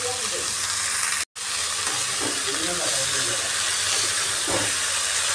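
Red amaranth greens frying with onion and garlic in a pan, giving a constant close sizzle with scattered stirring scrapes and a momentary cut-out near the start.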